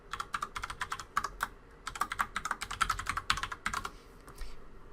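Login ID and password being entered on a computer keyboard: a quick run of close key clicks in irregular bursts, with brief pauses between groups of keystrokes and no talking.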